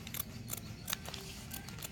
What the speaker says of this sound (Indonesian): kita lubangi memakai gunting ya